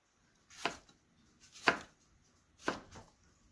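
Knife slicing tomato halves into wedges on a board for a lomo saltado stir fry, three separate crisp cuts spaced about a second apart, close and clear with no talking.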